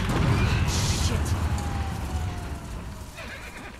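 A horse in The Last of Us Part 2 lets out a loud whinny just after a crash in the game, with hoof clatter and in-game noise around it and a voice talking alongside.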